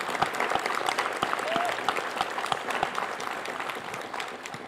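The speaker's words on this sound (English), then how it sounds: "We want to applaud you also." Audience at a school board meeting claps for parents standing in the room, a moderate wash of applause with scattered individual claps standing out and faint murmuring beneath.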